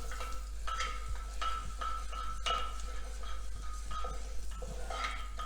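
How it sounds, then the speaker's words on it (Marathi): Urad dal and dried fenugreek seeds roast in a pan, giving a steady soft sizzle broken by repeated scraping stirs of a spoon against the pan. No one talks. "सुक्या मेथ्या टाकायचे आणि एकसारखं चांगलं भाजून घ्यायचं"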